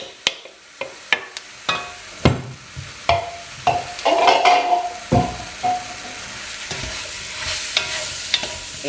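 Chopped mango chunks for chutney are stirred in a pan with a spoon, giving irregular scraping knocks over a soft sizzle, close and fairly quiet, with no voices.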